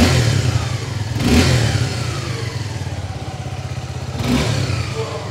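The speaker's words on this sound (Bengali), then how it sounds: "চলুন বন্ধুরা, আমরা সবাই এর এক্সস্ট সাউন্ড একবার শুনে নিই।" A Suzuki Gixxer 250 motorcycle's exhaust burbles at a close idle, with two sharp throttle blips rising and falling over the steady low rumble, and no one speaking.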